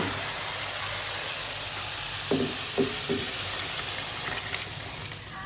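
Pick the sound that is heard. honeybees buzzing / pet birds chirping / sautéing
sautéing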